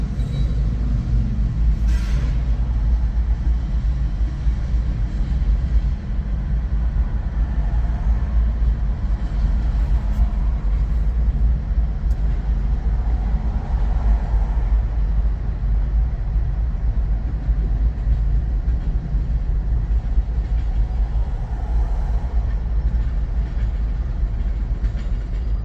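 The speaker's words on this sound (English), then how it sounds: "This is a 4-engine train." A CSX freight train led by four locomotives rolls past in Emerson, Georgia, a loud, steady low rumble with engine drone and wheel noise sustained throughout, no talking.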